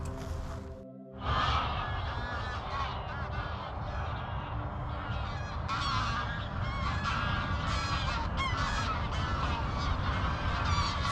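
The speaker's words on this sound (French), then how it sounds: "C'est le départ des oies cendrées, les amis." A flock of greylag geese takes off together, a dense chorus of overlapping honks and wingbeats starting abruptly after a second of quiet and continuing loud and busy throughout.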